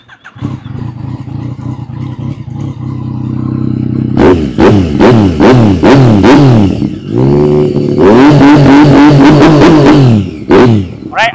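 A 2015 Yamaha MT-09 with an Akrapovic carbon full-system exhaust idles with a steady low burble, then blips through a rapid series of sharp, loud revs close by, with no talking.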